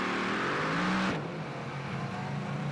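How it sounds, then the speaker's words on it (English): A full-size Chevrolet pickup with a 502 cubic inch crate motor roars at high revs for about a second at a mud drag race start, then drops off sharply to a lower rumble, loud and close. "Otis, well, if they have a mud racing class, he's out there in it with that full-size Chevrolet pickup and a 502 cubic inch crate motor."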